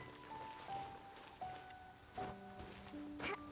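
Rain falling in the video game Genshin Impact, a soft continuous patter under sustained game-music tones, with a few brighter splashy bursts.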